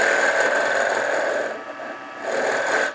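A Viceroy tool cuts wood on a lathe while turning a jewelry box, giving a steady, close, rasping whir that thins briefly midway and then returns, with no voices.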